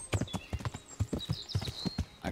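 A horse's hooves clip-clop in a quick, steady trotting rhythm, close and clear, in the medieval game Kingdom Come: Deliverance.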